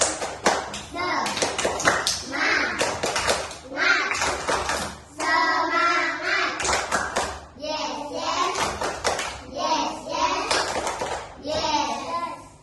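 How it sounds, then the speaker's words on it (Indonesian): Schoolchildren in a classroom perform the rhythmic tepuk semangat spirit clap, sharp patterned bursts of claps alternating with their chanted voices, loud and close throughout. "Tepuk semangat."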